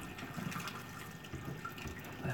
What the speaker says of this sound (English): as I tip it, it should leave enough water to acclimate him with